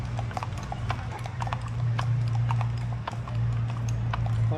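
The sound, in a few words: horse hooves clip-clopping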